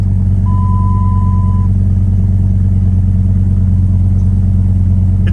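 A 2008 Dodge Viper SRT10 engine idles loud and close in a steady deep rumble after startup, with a brief tone beeping over it early on.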